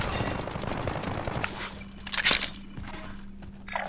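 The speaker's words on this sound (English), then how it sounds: "My shotgun's better than yours" Shotgun blasts in a multiplayer video game crack out amid busy game audio, with one louder burst standing out near the middle over a steady low hum.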